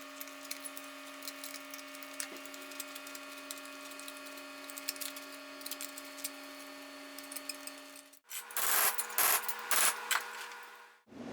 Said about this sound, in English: just got my big tin snips here. I'll go ahead and cut it out.